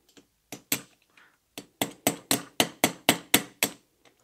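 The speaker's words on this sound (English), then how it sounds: "Using a brass hammer." A brass hammer strikes a small die-cast toy car on a cheap little anvil, about a dozen sharp metallic taps, sparse at first then a quick steady run, close and loud with no talking.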